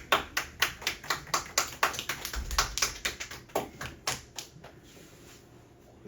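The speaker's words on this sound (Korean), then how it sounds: "승지한테 박수." A small class claps briefly for a student, a quick run of sharp, fairly close hand claps in an uneven rhythm that fades out after about four seconds, with no talk over it.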